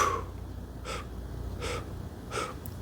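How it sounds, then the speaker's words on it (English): Three short, separate nasal inhalations come at a steady rhythm, each a soft close sniff-like breath. They are quiet and sit over faint background hiss, with no talking. "breathing all the way out, and then 1 breath, 2 breaths, 3 breaths in."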